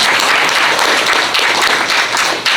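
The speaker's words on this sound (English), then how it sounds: "round of applause for Mike for the wonderful job he's been doing for us." An audience applauds Mike at a talk, a dense, steady wash of clapping at close range that lasts the whole stretch without pause.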